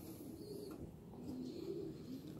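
A small blue bar racing homer hen gives soft, low cooing, faint and close, with no talk over it.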